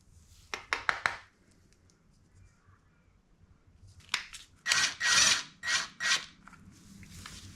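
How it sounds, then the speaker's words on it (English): Rotor bolts on a Honda CRF150R motorcycle are spun in by hand, giving short metallic clicks and rasping scrapes in two clusters, a quick series near the start and longer gritty threading sounds later, close and distinct with no talking. "now we can start Loctiting our rotor bolts in."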